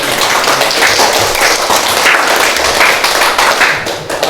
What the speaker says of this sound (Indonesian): Kita beri tepuk tangan untuk semuanya ya.